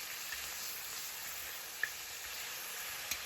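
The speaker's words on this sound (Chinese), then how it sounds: "把排骨给倒进来了，然后开中火， 把排骨给它翻炒至上色" Pork ribs stir-fried in caramelized sugar over medium heat give a soft, steady sizzle with a couple of brief sharp pops, heard alone at low level.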